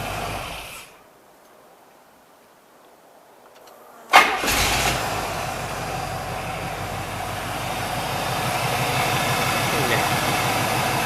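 A 1973 Trans Am with a 455 engine is shut off and then restarted: a short idle fades to near silence, then the starter cranks and the engine catches sharply into a steady, close idle.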